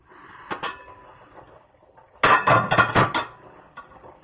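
A metal spoon stirring Uncle Ben's converted rice and peas in a pot, with a cluster of close clinking and scraping knocks after a quieter stretch of light clatter.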